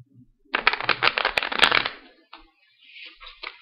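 A deck of playing cards is shuffled one-handed, a quick close riffle of crisp flutters over about a second and a half, then a few softer, slower card rustles.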